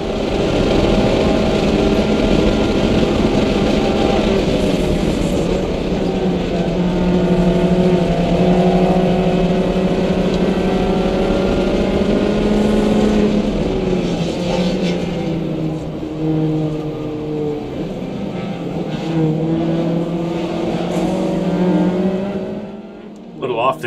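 A MINI Cooper S race car engine drones loudly on track from the cockpit, revs rising and falling through corners and shifts with wind and road roar, and a driver talks over it.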